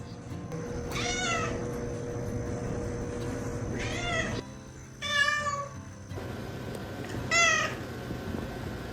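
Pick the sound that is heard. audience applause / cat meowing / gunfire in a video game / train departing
cat meowing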